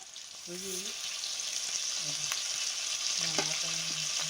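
Turmeric and spices fry in hot oil at a camp house, a steady, bright sizzle running throughout, close and even, with a few brief voice sounds over it.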